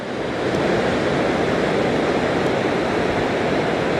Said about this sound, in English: Let's see these waves coming in now.